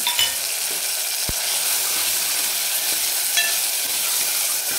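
Masala with tomatoes frying in a pan as red chili powder and Kashmiri red chili powder go in, giving a continuous bright sizzle with a few soft stirring knocks.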